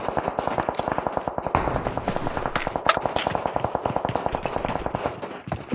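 Rapid bursts of gunfire and explosions from a battle royale video game fight, including a car blowing up, crackle densely and continuously at close range, a sharp bang standing out near the middle.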